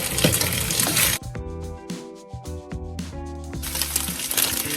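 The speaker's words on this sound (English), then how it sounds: "cold rice hit a hot pan, it's going to bring the temperature down" Cold seasoned rice in a hot pan gives a loud, dense crackling sizzle, which drops briefly in the middle and is broken up by scraping and stirring. It then surges back to full strength, with no talking.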